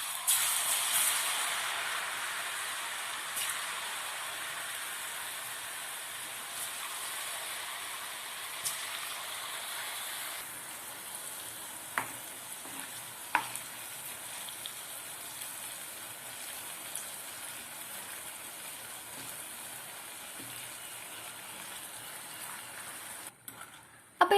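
Homemade kurkure snacks frying in hot oil in a pan, a steady bubbling sizzle that starts loud and eases to a softer, even hiss, with a few faint clicks and no voices.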